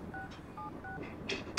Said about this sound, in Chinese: 我得赶紧给他们打电话，让他们看看新闻。